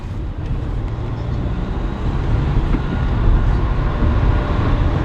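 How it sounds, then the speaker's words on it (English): A taxi drives along train tracks in Turkey, heading toward Taksim Square, with a steady, loud rumbling road and vehicle roar throughout. The tone is broad and low, and it swells slightly toward the middle. "We're literally driving on the train tracks."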